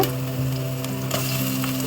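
Onions and mushrooms frying in a pan for a mushroom gravy, a steady close sizzle with faint stirring, no voices.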